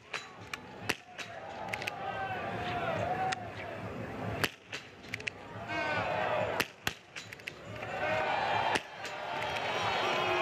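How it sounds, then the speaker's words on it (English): Biathlon rifle shots at targets during a mixed relay at a world championship, a series of sharp, separated cracks at uneven intervals over a crowd murmur and other voices. "This last shot is crucial, and Theriault takes his time, clears the 5"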